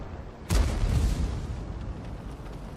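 A tank explodes in World of Tanks with a loud, sudden boom that trails into a rumbling decay over steady battle background noise.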